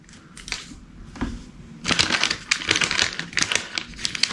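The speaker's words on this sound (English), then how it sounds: "This bag is resealable, so that's exciting." Resealable bag of Harvest Snaps baked pea crisps being pulled open, a crisp plastic crinkling and rustling in quick bursts close to the mic.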